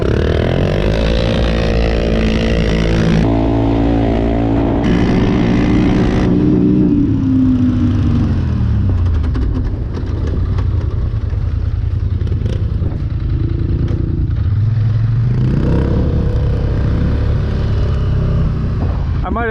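850 and 1000 HighLifter off-road vehicles accelerating hard in a drag race, loud roaring engines with rising and falling revs close by, then a rougher idling rumble, with people talking at times.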